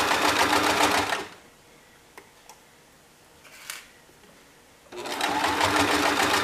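A sewing machine hemming fabric runs in a fast, loud, steady whir, stops for a few seconds of near silence with faint clicks, then starts up again.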